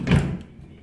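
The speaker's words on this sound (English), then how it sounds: "close the door when you go back inside" A door swings shut at home, giving a single soft thud with a brief rattle and then quiet. It is close by and moderately loud, and no one speaks.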